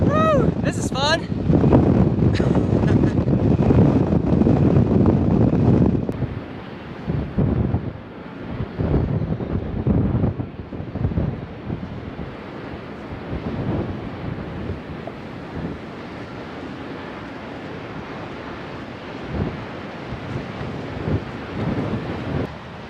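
Strong wind on the Pacific Crest Trail roars against the microphone in heavy buffeting gusts, loudest at first and then easing to a steady rushing blow, with a hiker talking over it at the start.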